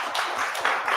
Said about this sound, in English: Let's give the panel a round of applause.